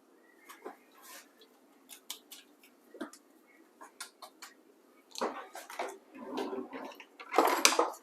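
Utensil clinks and scraping against a pot of boiling ramen noodle soup, scattered light taps building into louder stirring and clattering toward the end, with no talk.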